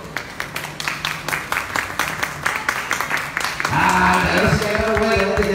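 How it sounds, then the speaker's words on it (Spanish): An audience claps at a live immigration forum at Plaza Fiesta. Steady applause runs through the first few seconds, then voices and other sound crowd in louder toward the end. "un aplauso, por favor"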